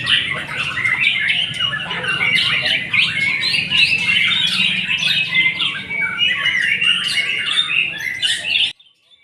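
A white-rumped shama calls continuously and loudly, with rapid, varied squawks, chirps and whistles that pour out nonstop until they cut off abruptly near the end.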